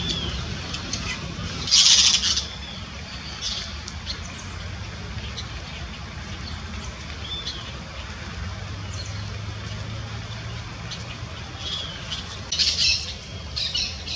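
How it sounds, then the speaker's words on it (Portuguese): Parakeets feeding in a coconut palm give a few loud squawks, a burst near the start and another toward the end, over steady outdoor park ambience. "Agora os periquitos estão se alimentando de coqueiro."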